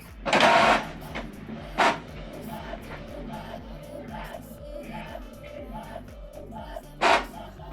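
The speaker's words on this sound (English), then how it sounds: "So now it's printing the page 2." An Epson wireless printer runs an alignment pattern page, giving soft mechanical whirring with a few louder bursts of paper feed and print-head movement, fairly quiet and close.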